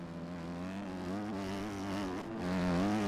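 A Honda motocross bike engine in the MX Bikes racing game during an MXON race, a steady buzzing whine that rises and falls in pitch as the throttle works, close and continuous with no talk.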